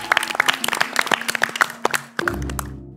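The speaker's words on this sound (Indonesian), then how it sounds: "Tepuk tangan lu untuk Pemret Narasi." Scattered hand claps from a small studio audience at a televised national-knowledge quiz final, a quick run of sharp separate claps that stops abruptly as a low musical tone swells in.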